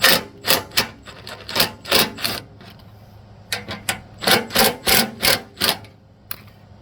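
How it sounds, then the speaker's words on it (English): A 1/2 inch socket ratchet loosening snowblower skid shoe bolts gives rapid, evenly spaced ratcheting clicks in two close, loud runs separated by a short pause. "we're just going to loosen these bolts"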